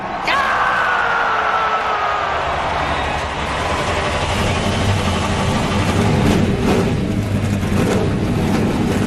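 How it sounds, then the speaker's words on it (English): Engines of NASCAR race cars at the 2014 Auto Club 400 in California roar together in a loud, steady drone that fills the whole stretch, with no clear single start-up. "Drivers, start your engines."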